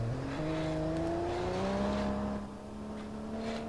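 Banger-racing car in the BeamNG driving game, its engine humming steadily with a slowly rising pitch, then easing lower before climbing again; close and continuous, with no talk.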